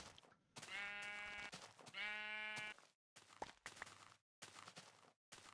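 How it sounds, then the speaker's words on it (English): Two loud, buzzy Minecraft sheep bleats close together, followed by softer clicks and shuffling sounds with brief silent gaps. "Look at these sheep dancing around, having a good time."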